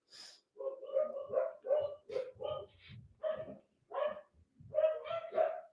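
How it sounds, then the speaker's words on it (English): A dog barks repeatedly in short, uneven bursts, fairly close, with brief pauses between yips and woofs. "If you happen to hear barking, I have some dogs right now."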